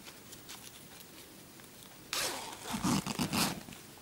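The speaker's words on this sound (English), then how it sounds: "what I always do is open the zip up" A zip on a candy wrapper purse is pulled open partway through, a short close rasping run followed by a few quick zipping bursts after quiet handling noise.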